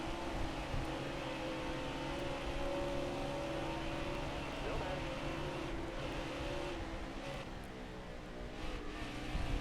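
NASCAR Cup race car engines in the video game NASCAR Heat 4 at Auto Club, a continuous droning engine note with layered harmonic whine as cars run side by side, moderately loud and steady.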